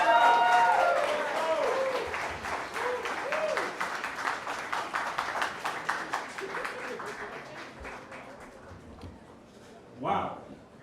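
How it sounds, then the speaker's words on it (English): Audience applause at a stand-up comedy show in the Milk Parlor, dense clapping that starts loud and gradually thins and fades over about ten seconds, with a brief voice and a few cheers near the end. "Can we get another round of applause?"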